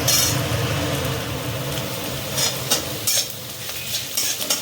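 Onions sizzle in a pan with a dense, continuous close hiss, punctuated by a few sharper scrapes and clinks of a utensil stirring against the metal.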